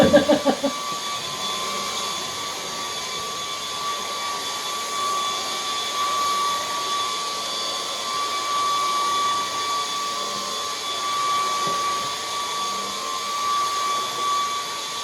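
A cordless battery vacuum cleaner motor runs steadily with a high whine, loud and close, after a brief rattling knock at the start; nobody speaks.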